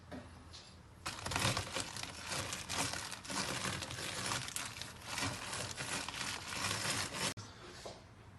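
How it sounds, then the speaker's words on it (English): Oreo cookies being crushed and flattened inside a plastic bag, a near, steady run of crinkling plastic and crunching crumbs lasting several seconds after a quiet start, with no talking. "We are going to put the Oreo cookies in the plastic bag and flatten the cookies."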